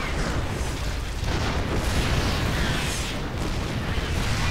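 Siege tanks fire repeatedly in StarCraft II during a battle against locusts near a planetary fortress, a dense continuous barrage of booms and blasts with no talk.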